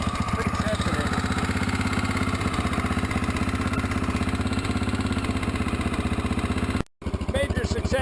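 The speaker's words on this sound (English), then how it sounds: "Idling all by herself." A 1983 Honda XL600R dual-carburetor motorcycle engine idles on its own after a carburetor overhaul, a steady, even, close low thump with mechanical clatter, briefly cut by a short dropout near the end.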